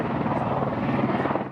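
Rescue helicopter flying overhead after an avalanche on Utah's Pfeifferhorn, a loud, steady rotor thudding and engine roar close by, continuous throughout.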